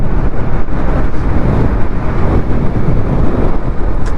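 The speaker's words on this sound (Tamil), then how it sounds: "ஸோ காய்ஸ் காற்று ரொம்ப அடிக்குதுங்கோ." Strong wind roars across the microphone while riding a KTM Duke 390 motorcycle on the road from Munnar, a loud, constant low buffeting rumble with road noise throughout.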